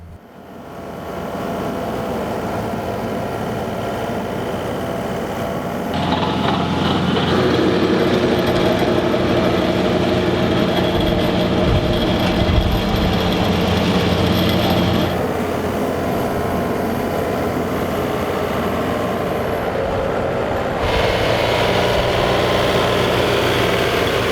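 A tractor pulling a front-mounted tiller grades an acre of land, its engine droning steadily and loudly throughout, rising in intensity at times as the load changes, with no talk.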